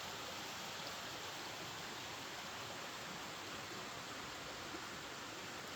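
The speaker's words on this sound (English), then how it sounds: "you can see there's definitely an elevation where the water's coming down." Steady, even rush of creek water flowing down a drop in the stream bed, a constant broadband wash heard from nearby with no talking.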